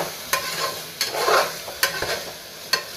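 Vegetable biryani mixture being stirred in a pan, with about four distinct scraping strokes spaced roughly a second apart over a soft background sizzle, close and clear with no talking.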